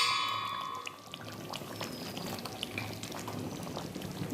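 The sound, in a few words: pouring rose water into chicken chaap gravy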